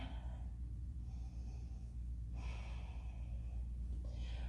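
Slow, audible breaths during a power yoga flow, quiet and close, with a few longer exhales rising above faint room noise and no speech.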